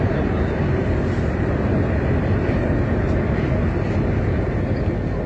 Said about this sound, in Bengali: আমাদের ট্রেন কিন্তু বেলগাছিয়া স্টেশন ক্রস করে গেছে, আর যে কোনো মুহূর্তে মাটির ওপরে উঠে আসবে